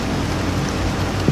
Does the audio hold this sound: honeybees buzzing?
no